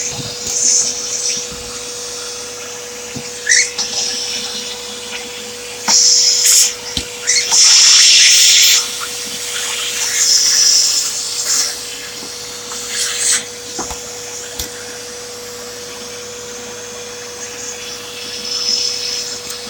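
Hoover vacuum cleaner sucking up bird litter, a steady motor hum with bursts of loud rushing and rattling as debris is drawn in, rising and falling over time.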